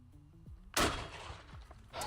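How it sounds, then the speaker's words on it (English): A 12 gauge shotgun fires a slug at very close range in a game, one sudden loud blast with a decaying rumble and a second sharp burst near the end. "I'm gonna shoot this thing very close."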